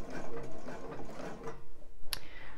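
A sewing machine stitches a bra band seam in close, satin-like stitches, its steady mechanical whirring running for most of the moment before a brief sharp click near the end.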